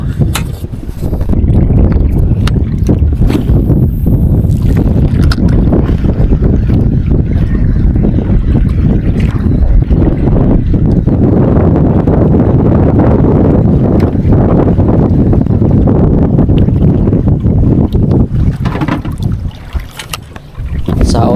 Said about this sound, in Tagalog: lumalakas na po yung hanging amihan. Kaya arinig na po sa ating camera.